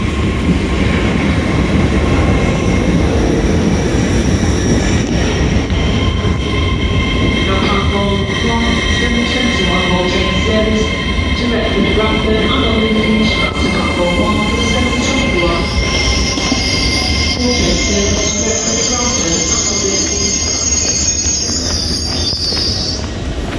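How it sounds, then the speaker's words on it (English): A passenger train arriving for London King's Cross pulls in nearby with a steady heavy rumble, rising metallic wheel squeals and brake whines toward the end, loud and continuous. "Here comes my train."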